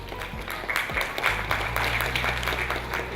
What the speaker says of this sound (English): A round of applause for its attitude.